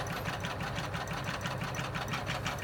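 An embroidery machine stitches out a bean stitch on an in-the-hoop card case, giving a close, steady, rapid mechanical chatter with an even rhythm throughout, heard alone.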